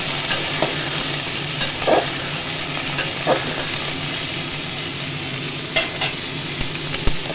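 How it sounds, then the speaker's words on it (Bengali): Pumpkin, radish and potato frying together in a pan, a steady close sizzle with occasional soft stirring scrapes and small pops, no talking. "মূলো আর আলু। এর সাথে আমি বেগুন দেবো একটু পরে, সবই এক জায়গায় আমি ভেজে নেব।"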